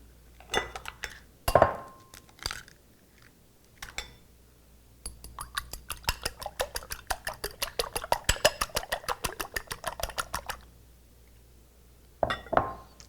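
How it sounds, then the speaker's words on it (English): Eggs whisked in a bowl, a quick run of rapid rhythmic clinking taps of whisk against the bowl, close and crisp, with a few scattered clinks before and after. "we'll just whisk these together very quickly"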